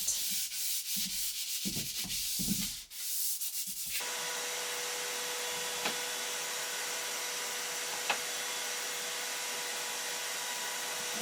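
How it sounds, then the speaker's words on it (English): An electric sander scuff-sands a wooden bedside nightstand, first in short choppy passes and then as a steady, continuous, fairly faint whirring rub that runs on alone with no voices. "sanding this whole bedside nightstand took about 8 minutes if we want to be generous, definitely under 10 minutes"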